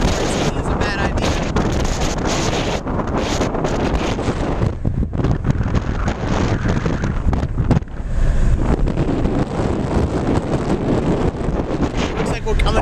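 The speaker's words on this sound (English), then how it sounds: "Very windy. Very windy." Strong wind at about 46 degrees buffets the microphone in heavy, uneven gusts, a roaring rumble over the sound of a vessel moving through water.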